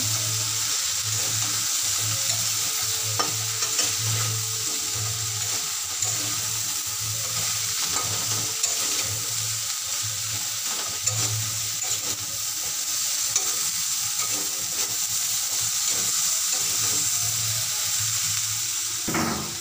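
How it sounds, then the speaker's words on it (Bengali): Cut amaranth stalks stir-fried in oily spice paste give a steady close sizzle throughout, with repeated scraping and stirring of a spatula in the pan and no talking. "এবার আমি এর মধ্যে দিয়ে দেব কেটে রাখা ডাঁটাগুলো, দিয়ে ভালো করে কষে নেব"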